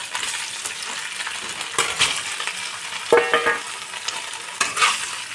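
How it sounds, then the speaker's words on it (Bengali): Paneer cubes fry lightly in oil left from frying potatoes, a soft, steady sizzle broken by sharp spatula scrapes and stirring clatter against the pan. "দেখো, পনিরটাও আমি হালকা ভেজে নিলাম"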